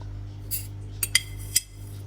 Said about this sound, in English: Now get a cup, put 2 teaspoons of Nescafe Gold.